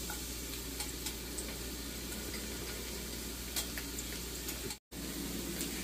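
Garlic frying in a little oil in a pan for chicken adobo, a steady close sizzle with faint scattered ticks and one brief gap near the end.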